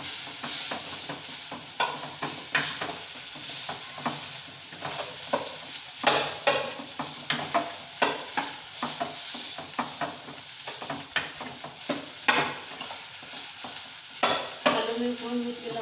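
Gobi samosa filling sizzles as it fries in a pan while a spoon stirs it, with steady frying hiss and repeated sharp scraping taps, close and moderately loud, no talking.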